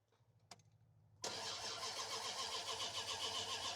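A 2001 Dodge Ram pickup's starter cranks with a rhythmic low churn for about a second, then a sharp jump into a loud, steady, close roar that holds to the end.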